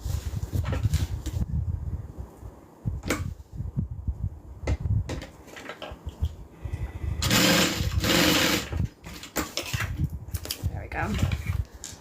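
A sewing machine stitches a backpack piece in quick bursts of rapid mechanical whirring, separated by pauses filled with handling clatter and fabric rustling, with one longer louder run near the end.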